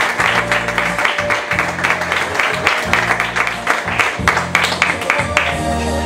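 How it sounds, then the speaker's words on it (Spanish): Gala audience gives loud, sustained applause, a dense clapping wash that pulses slightly and carries on for several seconds, with some crowd murmur underneath. "Pido un fuerte aplauso para David Chulián."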